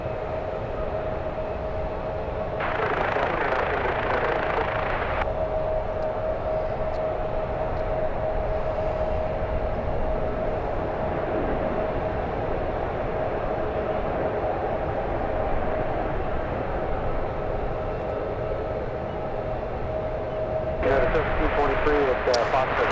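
Delta airliner bound for Minneapolis departing San Francisco airport, a steady broad jet roar holding loud throughout with a tonal whine, with a voice talking over it.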